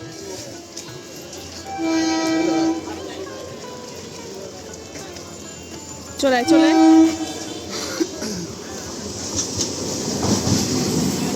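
A train rumbles past near a market with two loud horn blasts, one early and one midway, over steady rail noise and background voices.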